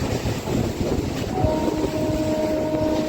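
A Sealdah to Kalyani Simanta local train running, a steady rumble of wheels and carriages with a sustained horn-like tone entering midway, continuous and fairly close.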